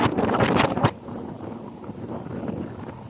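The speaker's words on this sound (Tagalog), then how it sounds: "Grabe. Taas ng hangin." Strong wind buffets close by at Yehliu Geopark on the Taiwan coast, loud and gusty at first, then easing to a steady rushing roar.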